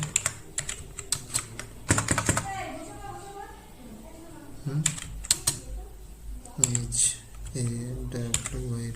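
Typing on a computer keyboard while working in PowerPoint, quick clusters of close key clicks in bursts, with a person talking between and over the keystrokes.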